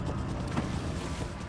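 A speeding boat in the video game Max Payne 3 rushes past with a brief, quiet whooshing engine and water roar mixed with wind-like noise.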